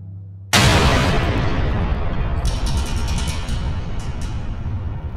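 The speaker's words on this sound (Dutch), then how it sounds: "Die ontploffing was vermoedelijk nodig voor de sloop." Demolition blast among the war-damaged buildings of Rotterdam in 1940: a sudden loud boom after a short quiet lead-in, followed by a long, broad rumbling roar that slowly settles.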